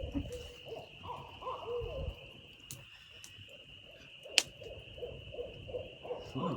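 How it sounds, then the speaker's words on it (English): Owl hoots at night in the Adirondack woods, a series of soft, low calls repeating through the clip over a steady insect drone, with one sharp click partway through. "those owls can sound freaky if you don't know what they are"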